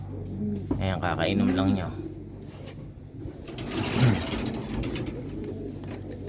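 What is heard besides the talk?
pigeons cooing in a loft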